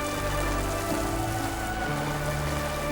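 Steady rain patters on a hard surface with a constant dense hiss throughout, close and even, with no voices.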